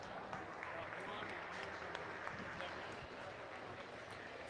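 Audience clapping at a county fair livestock arena show, a steady, dense patter of many hands filling the clip at moderate distance, with faint voices murmuring beneath.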